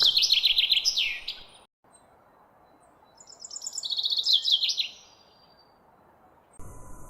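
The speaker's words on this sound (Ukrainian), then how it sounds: "А які чисті голоси в пташок." Spring songbirds singing clear, high chirping phrases in two bursts, one at the start and a louder, longer one midway, with quiet outdoor background between and no talk.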